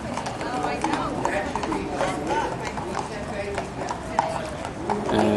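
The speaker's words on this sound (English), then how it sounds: "one of the other horses that's going to be in the big show." Horse hooves clip-clop at a dressage clinic at an equine expo, a continuous run of soft hoof beats mixed with crowd chatter and nearby talking.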